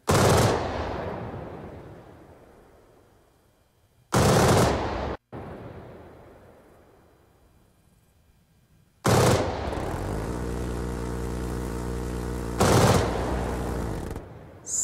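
Phalanx CIWS (C-RAM) cannon fire in the Arma 3 video game: two loud bursts with long ringing decays, then a sustained buzzing stream of fire lasting several seconds. No voices.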